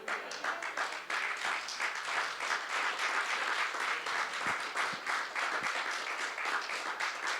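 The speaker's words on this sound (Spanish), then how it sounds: "No, el aplauso es para el Señor." A church congregation applauds during a Friday evening service, a dense, steady wash of clapping from many hands at moderate distance, continuing evenly with no talk over it.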